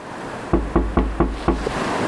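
Five firm knocks on a door, evenly spaced and close, each a sharp hollow thud with a short decay, heard alone against a quiet background.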